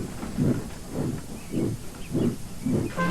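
A steam engine puffs along in a steady rhythm, about five evenly spaced chuffs with hissing steam, moderately loud and heard alone.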